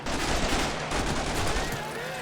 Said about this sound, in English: They just shoot him in the back of the head.